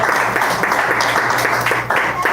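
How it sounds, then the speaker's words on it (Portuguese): Church congregation clapping for Jesus after a sermon, dense continuous applause filling the room, loud and close, with voices mixed in underneath. "Palmas para Jesus"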